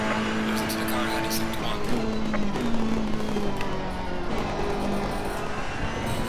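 A racing car engine in the video game Assetto Corsa Competizione whines and shifts pitch steadily through gear changes, with a harsh, continuous buzz throughout.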